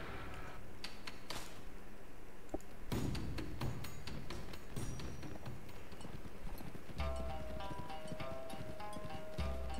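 Hooves of a galloping horse beat in quick rhythmic clip-clops in the video game Mount & Blade: Warband, moderately close, with scattered battle clatter and a brief tone later on.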